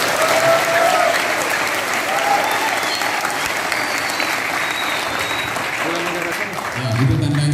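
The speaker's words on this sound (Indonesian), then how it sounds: "Tepuk tangan." Steady, loud applause from an audience of cadet candidates at an evening reflection gathering at PIP Makassar, filling the whole stretch with dense clapping while voices call out faintly beneath it.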